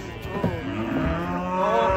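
A large bull, freshly unloaded from a truck, lets out a long, loud, close moo that swells over about two seconds, with no talking.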